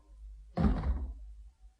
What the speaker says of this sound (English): Go out and close the door.